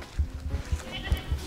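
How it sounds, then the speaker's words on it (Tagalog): Goats on a farm, heard as a series of low, rhythmic bleating calls repeating every fraction of a second, fairly close, with a faint background of other farm noise. "ito naman guys, yung mga kambing"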